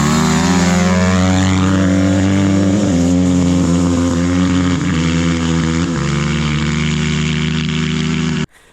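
Stock Honda dirt bikes, a CR125R two-stroke and a CRF250R four-stroke, rev loudly. Their engine drone is dense and buzzy, with the pitch rising and falling as the throttle changes, and it cuts off abruptly at the end.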